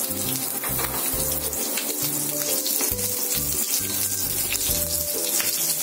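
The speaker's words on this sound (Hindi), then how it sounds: "अब इसमें मेथी दाने को डालेंगे और क्रैकल को आने देंगे।" Fenugreek seeds with green and red chillies crackling and sizzling in hot oil in a pan, a steady bright hiss with irregular pops throughout.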